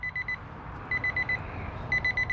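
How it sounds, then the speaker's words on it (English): An alarm goes off while a turkey is smoked on a smoker, sounding three bursts of rapid, steady electronic beeps separated by short pauses, loud and clear over a low background hum. "Turn that alarm off."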